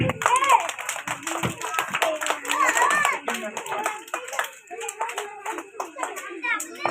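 Children at a school Flowers Day event clap their hands in scattered, uneven bursts while an adult calls out names and children chatter over the top.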